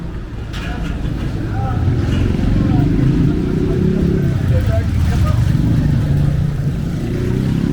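Motorbikes rev and drone through a crowded Marrakesh street, a continuous loud low engine roar with passing surges, under faint voices.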